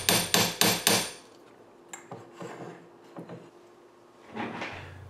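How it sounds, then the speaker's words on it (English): A hammer strikes a punch four times in quick, even succession, chasing metal over the edges of a turquoise stone in a bezel setting, loud and close, followed by softer scattered taps and handling noises. "the metal is chased inwards over the edges of the stone with a punch and a hammer"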